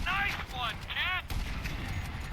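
Gunfire aimed at a helicopter in Grand Theft Auto V, bursts of shots and impacts mixed with whooshing, sweeping tones, loud and close, followed by a rumbling blast.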